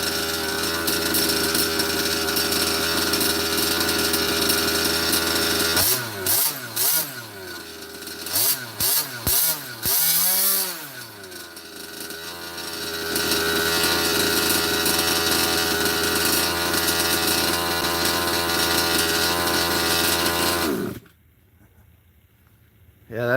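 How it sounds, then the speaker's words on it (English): Small engine of an RC Baja car running close by, a loud buzzing drone broken by several revving blips and pitch swings mid-way, then steady running before cutting off near the end. "That's a good little engine."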